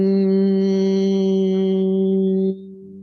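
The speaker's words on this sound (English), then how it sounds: "the humming is not so easy laying down," A person hums one steady low tone during a somatic movement practice. The hum is loud and close, held for about two and a half seconds before it drops sharply to a quieter level.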